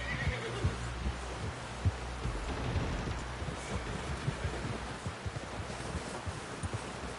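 In Red Dead Redemption 2, a horse neighs and snorts amid hoof clops and rustling outdoor ambience, fairly quiet with a low steady hum underneath.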